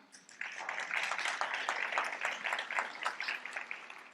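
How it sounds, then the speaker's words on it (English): Audience at a leadership institute demo day applauds steadily for the team coaches, a faint, even wash of many hands clapping that starts abruptly and continues without talk. "please give me a round of applause"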